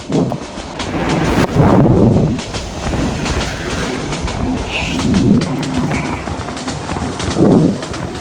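A long train of white Chinese coaches passes in the Train Simulator Bangladesh game, a loud, steady rumble with rhythmic clickety-clack of wheels over the rails throughout, and no talking.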